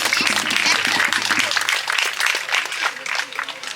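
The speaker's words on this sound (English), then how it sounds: "let's give them all a round of applause" A crowd at an evening storytelling event claps steadily in a dense burst of applause, with a few voices murmuring low underneath before the clapping carries on alone.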